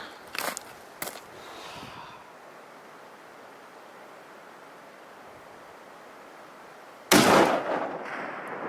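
A rifle shot fired while hunting bighorn sheep in the Idaho mountains, one loud, sharp blast near the end with a brief rumbling tail, after a couple of faint knocks and quiet outdoor hiss.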